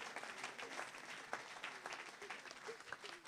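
Applause with scattered cheers rises from a crowd acclaiming Jesus at a Christian healing gathering in Niort, dense steady clapping throughout with a few sharp shouts standing out near and mid-distance.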